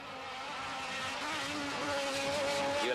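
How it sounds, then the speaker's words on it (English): A Guinness Mazda RX-7 race car driven by the race leader at a Bushy Park, Barbados circuit race, its engine a steady distant drone with a rising whine, heard alone over the whole stretch. "Away in the distance, the race leader is Mark Maloney in the Guinness Mazda RX-7."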